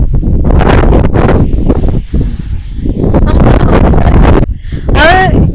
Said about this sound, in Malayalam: ഇവിടെ മൊത്തം കാറ്റടിക്കുന്നുണ്ട്